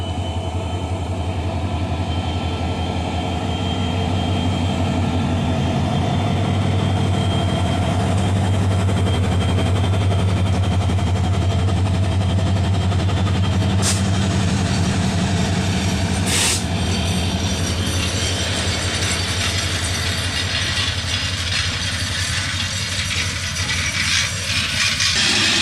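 An intercity express passenger train leaves Tangail and rolls past, giving a loud, continuous rumble with rhythmic clatter of wheels over rail joints and a couple of sharp metallic clanks.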